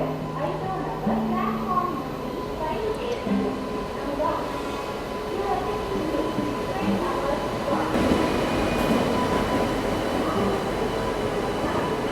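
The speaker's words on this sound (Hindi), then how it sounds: "फाइनली अपनी ट्रेन का अराइवल हो रहा है" The Tirupati–Jammu Tawi Hamsafar Express pulls into a station platform, with a continuous rumble of rolling wagons and wheel clatter, plus horn-like tones and platform chatter mixed in throughout.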